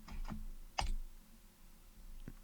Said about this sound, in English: You have the loudest mouse clicks.